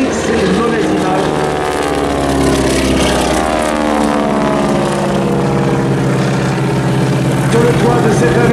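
A red propeller aerobatic plane carrying a wingwalker on its top wing drones steadily overhead at an air show in Saint-Brieuc, its engine hum loud and sustained throughout, with a faint voice underneath.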